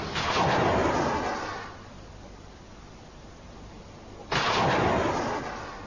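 A ship's chaff launcher fires chaff rockets in two loud, booming blasts a few seconds apart, each a sharp burst followed by a rushing, fading roar.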